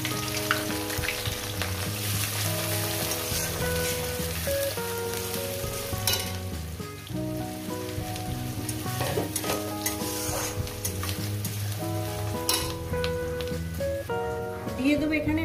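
Chopped onions fry in hot oil with cumin seeds and bay leaf, a dense continuous sizzle heard close, with stirring scrapes throughout and tonal background sound running underneath.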